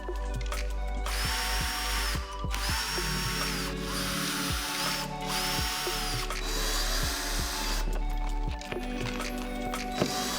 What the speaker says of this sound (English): I put a single screw at each end of the hinge, and once I was happy I went back and did the full length both sides